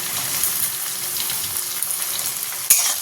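Onion, tomato and green chili frying in a pan, a steady close sizzle with bubbling oil and small pops throughout, plus a sharper clatter near the end.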